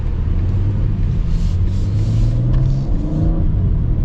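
The twin-turbo inline-six of a 2026 BMW M4 Competition revs up, a loud, steady rumbling drone rising and falling in pitch over a few seconds.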